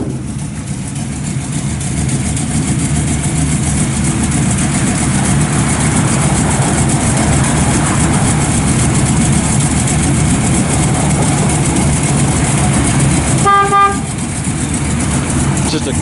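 A 1955 Chevrolet Bel Air two-door post with dual exhaust idles after starting, a steady low rumble filling the whole stretch with a brief tonal squeal near the end.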